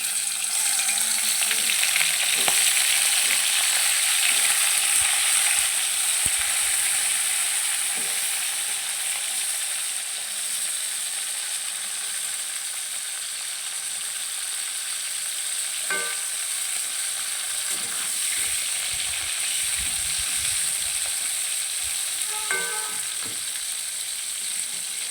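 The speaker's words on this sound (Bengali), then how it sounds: "তেল গরম হয়ে গেছে, এবার এর মধ্যে এক এক করে কাঁকড়াগুলো ছেড়ে দেবো।" Crabs sizzle and fry steadily in hot oil for a Bengali crab kosa, a constant close hiss with occasional light pops and clinks of a utensil against the pan.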